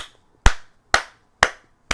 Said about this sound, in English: And then I clap